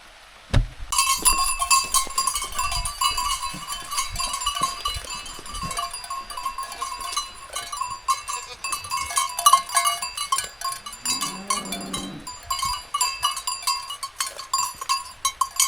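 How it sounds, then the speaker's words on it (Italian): Goats at a high Alpine pasture fill the air with a continuous clangor of many cowbells ringing close by, with occasional bleats rising through the jangling. "Belle ste capre. Sono belle."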